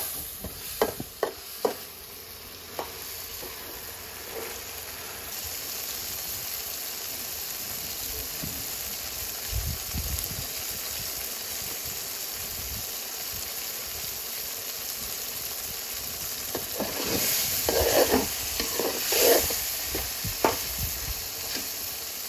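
Shrimp stir-fried in a pan during a cold night out on a river, a steady low sizzle with scattered scraping stirs that grow busier toward the end.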